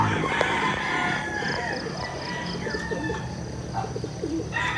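Pigeons at a fancier's breeding loft coo softly and continuously, with other birds chirping and a rooster crowing at moderate distance in an open outdoor morning setting.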